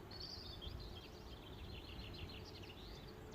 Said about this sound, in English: I'm listening to lots of birdsong.